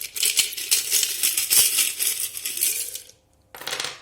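Small metal charms for a divination reading are cast and tumble onto a surface, a close, bright jingling clatter of many tiny pieces, a short pause, then a second burst of rattling.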